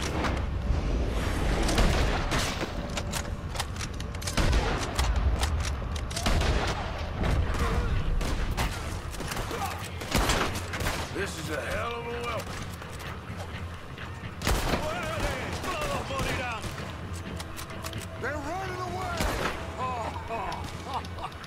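Gunfire erupts in the video game Red Dead Redemption II, loud repeated shots and booming bursts in rapid clusters, with someone talking over the fighting.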